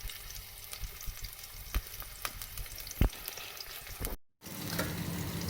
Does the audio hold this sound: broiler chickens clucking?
no